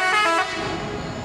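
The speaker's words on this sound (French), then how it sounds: "Les ouvreurs sont à peine arrivés qu'un klaxon retentit." A bus horn sounds a loud, short blast as buses carrying competitors pull in for the TransMartinique 2016 race. It is followed by a lower rumble of vehicles and crowd noise.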